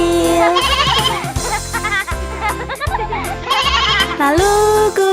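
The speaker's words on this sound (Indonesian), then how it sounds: "ada domba kecil" A little lamb bleats repeatedly through a loud Indonesian children's cartoon song, its wavering cries mixed with bright music and singing voices.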